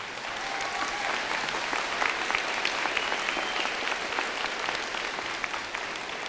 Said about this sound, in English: please take a moment and give them a big round of applause